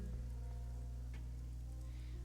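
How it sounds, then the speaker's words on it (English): Steady rain and wind ambience from the Shadowrun: Hong Kong video game, a constant dense patter with a low rumbling drone underneath, even and unbroken throughout the short stretch. "Despite the wind and rain pelting Hayoi"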